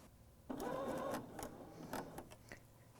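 A BERNINA L 620 coverstitch machine runs a short burst through fabric under the presser foot, a steady mechanical whir of about two-thirds of a second, then a few lighter clicks and taps as it stops.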